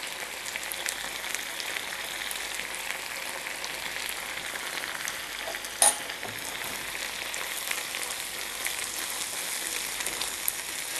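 A spiced chickpea mixture with garam masala and salt bubbles in a pot on a stove over high heat for papdi chaat. It gives a steady, dense hiss and sizzle throughout, broken by one brief clink, with no talk.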